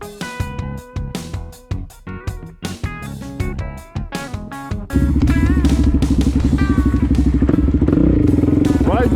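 A 2020 Suzuki DR-Z400S motorcycle on a rough road: choppy, bursting engine revs and knocks at first, then a loud, steady, close engine drone, with voices heard over it.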